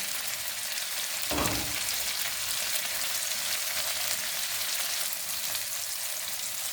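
Mackerel fries in a pan for a tamarind roast, making a loud, steady, close sizzle that fills the whole stretch, with one brief bump of added noise early on.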